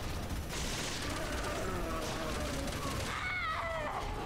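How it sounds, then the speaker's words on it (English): Gunfire from the Resident Evil 6 video game, a dense rattling fusillade of shots with mechanical clatter running continuously through the clip under game noise, with voices in the background. "I'm gonna keep shooting it."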